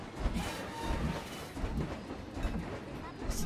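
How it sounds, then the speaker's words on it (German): Trains running in the Planet Coaster theme park game, a rumbling, rattling rail clatter with periodic thumps, mixed with ambient park noise and no clear talk. "Das sind Züge, ne?"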